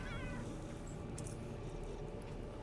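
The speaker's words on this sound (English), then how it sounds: "Oh, there's cats everywhere." Cats meowing in the video game Underrail, a brief faint mew over a dense, steady background rumble of game ambience, with no talk.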